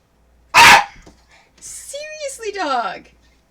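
A pet dog lets out one sharp, loud bark, then a short pause before a drawn-out whining yip and a string of softer whimpering vocalizations.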